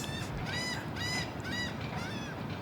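Goose-like honking calls repeat in a loose series of four or five nasal, harmonic blasts over steady outdoor background noise, fairly close and loud, with no talking.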